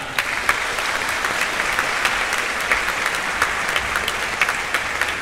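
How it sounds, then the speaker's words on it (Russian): An audience applauds at a Christmas symphony concert in Moscow, a dense, steady wash of clapping with a few sharper individual claps standing out, sustained throughout with no voices on top. "Под ваши аплодисменты"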